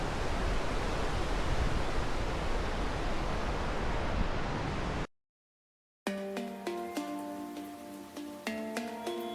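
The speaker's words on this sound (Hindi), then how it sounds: "सामने है नेपाल की तरफ से गिरते हुए झरने और अपनी आवाज़ से पूरी घाटी को गुंजायमान करती हुई काली नदी" Waterfalls and the Kali river roar through a Himalayan valley on the Nepal border, a dense, loud, continuous rush of water that cuts out abruptly, then gives way to a few seconds of music.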